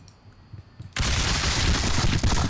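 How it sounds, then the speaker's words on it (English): Cannon and musket fire in an American Revolution battle video game at Battle Road, a sudden loud barrage erupting after a quiet moment and continuing as dense, sustained rumbling gunfire. "Once the cannon started firing"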